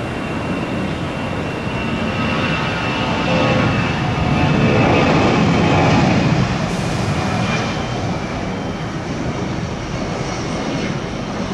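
A jet airliner roars at Tampa International Airport, its engines a loud, steady, broadband rumble that swells slightly midway and then holds, with no voices over it.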